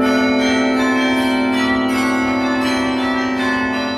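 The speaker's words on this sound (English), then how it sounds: "The chapel's carillon is named in honor of J. Samuel Hammond, the late university carillonneur who faithfully played the instrument for 5 decades." Large carillon of 50 bells at Duke Chapel ringing loudly and continuously, with rich sustained overlapping tones and a steady wash of bell strikes close by the listener.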